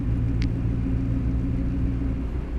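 A Morris Minor car runs with a slight rattle, a steady, close, low engine rumble that holds evenly throughout the short stretch.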